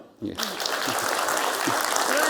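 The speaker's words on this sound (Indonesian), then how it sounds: "Tepuk tangan dong." A studio audience bursts into applause on an Indonesian talk show after a brief pause, sustained clapping that fills the room with a voice briefly audible at the start.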